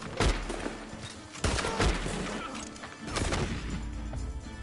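Bolt-action rifle shots in Red Dead Redemption 2 multiplayer: three separate booming reports spaced a second or more apart, each with a rolling tail, under a busy background of game sound.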